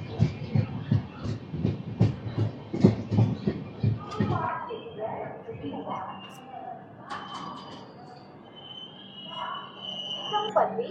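The Gowthami Superfast Express rolls into Samalkot Junction platform, wheels clattering in a run of rhythmic knocks that fade into a quieter station hum with scattered clanks and a distant announcement-like tone.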